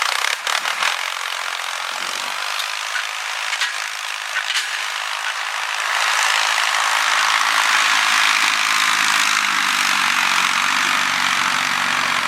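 A tractor engine runs while leveling rutted ground for a clover food plot, a harsh, grinding mechanical noise that grows heavier and lower after a few seconds, with no voices.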